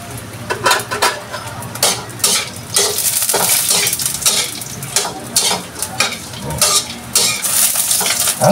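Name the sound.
dried anchovies (dilis) frying and being stirred in a pan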